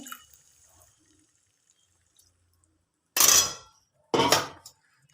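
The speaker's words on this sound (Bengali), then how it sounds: "অল্প অল্প করে জলটা দিয়ে দিচ্ছি, ছাতুর জলটা।" Water saved from boiling mushrooms is poured a little at a time into spice paste frying in a pan. Two short, close sizzling splashes stand out against near quiet, about a second apart.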